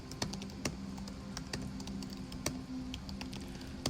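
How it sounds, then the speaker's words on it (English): Clicking keystrokes on the scissor-switch keyboard of a 2026 M5 MacBook Air, sharp close taps in a loose, uneven rhythm over a faint steady hum, with no voices. "the typing feels more solid because of its higher end chassis than the Neo"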